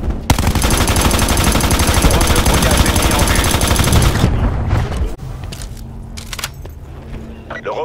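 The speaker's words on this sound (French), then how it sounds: "Le robot se fait tirer dessus." Heavy sustained gunfire hitting a robot in a Black Ops 4 multiplayer match, a loud continuous barrage lasting several seconds before easing into scattered quieter shots and game noise, with a voice talking alongside.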